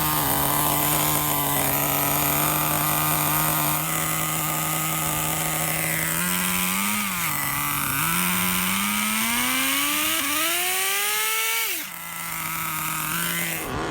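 An Exceed Nitro Rally Monster RC car's small nitro engine idles close by with a buzzy, even note, then blips up twice in rising revs before settling back to idle.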